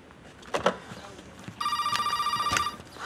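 A telephone rings in a home during a family argument in a Spanish TV drama. Two bright electronic trills sound close and clear, following a few faint knocks earlier.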